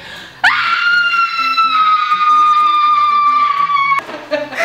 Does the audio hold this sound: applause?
no